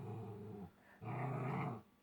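A dog growls close by in two low rumbling bursts, the second longer and harsher after a short pause, with no talking.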